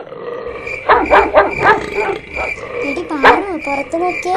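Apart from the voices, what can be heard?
dog barking outside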